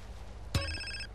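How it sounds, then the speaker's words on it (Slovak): Telephone ringing in GTA San Andreas, a single short bright electronic ring burst with a faint tonal tail, quiet over a low background hum. "Telefón? Môžeš zazvoniť?"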